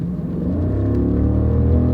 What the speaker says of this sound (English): you step on the gas,